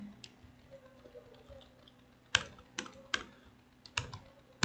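Computer keyboard typing HTML code, a few scattered sharp key clicks in short bursts over a quiet background hum.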